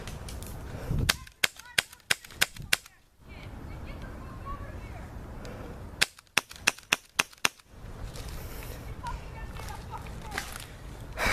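Airsoft guns firing outdoors, including an M14 AEG, in two sharp bursts of about six snappy, close shots each, separated by quieter stretches of ambient noise, with people talking nearby.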